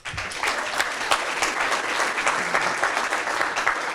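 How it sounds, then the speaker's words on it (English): Audience at a Cobb County town hall applauding staff, a dense burst of clapping from a room full of people that stays steady and close for several seconds. "So just another round of applause for staff."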